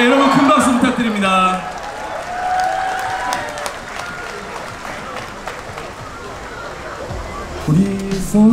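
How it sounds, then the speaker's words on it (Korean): A crowd at Seoul Plaza applauds at an outdoor welcome ceremony for the returning U-20 national football team, a broad, steady patter of clapping under amplified voices. "여러분 큰 박수 부탁드립니다"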